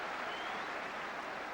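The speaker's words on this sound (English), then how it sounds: "Every pass Burnley make is applauded" Football crowd at Burnley's ground applauding passes during a 1993 League Cup tie against Preston North End; a steady, dense wash of clapping that stays even and sustained throughout, with no voices standing out.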